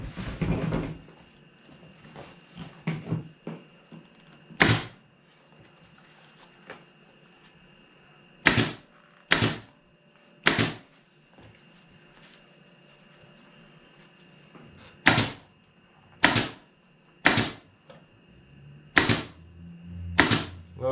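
A staple gun being used for upholstery work fires about nine sharp, distinct snaps at irregular intervals over a low, steady background hum, with some rustling and handling noise at the start.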